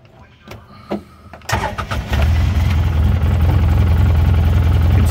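A 2011 Polaris Ranger HD utility vehicle with a snow plow fitted starts up, then settles into a steady, close engine idle that holds loud and even to the end.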